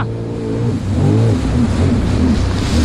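A jet ski engine revs hard and close in choppy water, its pitch rising and falling in steady surges for about three seconds with no voices over it.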